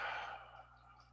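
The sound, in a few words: person breathing out slowly after deep breath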